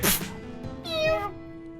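A house cat meows twice, close and clear, the second call longer and rising, with no other sound around it.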